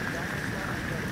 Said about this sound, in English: absolutely incredible how much hail just came like smashing down